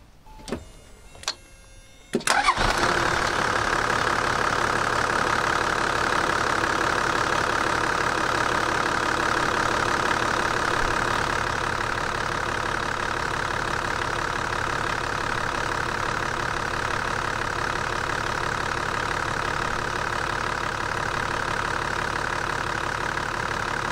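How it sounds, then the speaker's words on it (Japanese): Toyota Land Cruiser 80 with a 1HD-FT diesel engine starting after a few short clicks and then idling steadily with a constant low rumble and clatter, loud and close with no voices. "それではしばらくランクル80の 1HDFT のエンジン音をお楽しみください。"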